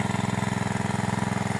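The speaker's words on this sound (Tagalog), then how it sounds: "Yun ang makina ko" A small engine drives a water pump drawing water through a hose, running close and loud with a steady, rapid pulsing throb and no change in pace.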